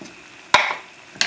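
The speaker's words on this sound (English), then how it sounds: "I'm going to throw the olives in" Olives tossed into a hot pan of chicken sausage and broccoli give two sharp clattering impacts, each followed by a short hiss of sizzling, close and fairly loud.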